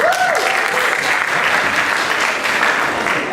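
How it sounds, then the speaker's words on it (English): Steady, loud applause fills a Sunday Assembly gathering from start to finish, a dense wash of many hands clapping together, with a brief voice-like tone near the beginning. "Real quick, round of applause."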